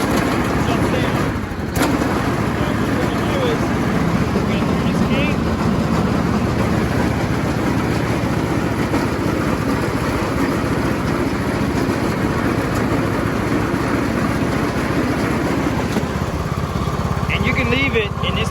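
A Craftsman T2500 lawn tractor engine running at a steady idle close by, a continuous loud mechanical drone that never changes pace, with someone talking over it.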